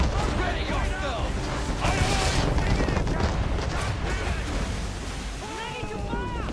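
Cannon fire from warships in an Assassin's Creed 3 naval battle: booming shots and surf-like blasts wash over continuous roaring noise, with shouted crew voices throughout.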